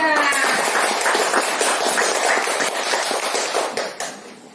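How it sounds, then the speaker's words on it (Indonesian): Classroom applause for a student group, a burst of many hands clapping close and loud, fading out toward the end. "Ya, tepuk tangan untuk kelompok 3."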